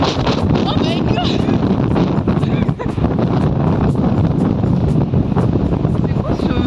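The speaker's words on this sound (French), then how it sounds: "C'est quoi ce vent là?" Strong wind buffets the microphone in a steady, roaring rush with gusty rumble throughout, outdoors in or near Prague, while people talk over it.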